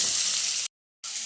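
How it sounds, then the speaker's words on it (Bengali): Potatoes and pointed gourd frying together in a pan give a steady, bright sizzling hiss, briefly cut to silence before the frying noise resumes. "আলু পটল আরও কিছুক্ষণ ভালো করে একসঙ্গে করে ভেজে নিয়েছি"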